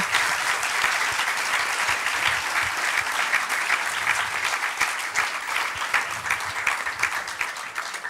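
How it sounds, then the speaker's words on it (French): A conference audience gives steady, full applause after a talk, many hands clapping evenly for about eight seconds at moderate loudness with no voices over it. "Je pense qu'on peut vous remercier et vous applaudir pour votre intervention."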